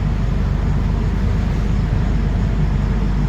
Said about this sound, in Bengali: বেশ কিছুক্ষণ দাঁড়িয়ে থাকার পর ব্যান্ডেল স্টেশন থেকে এইমাত্র ট্রেন ছাড়লো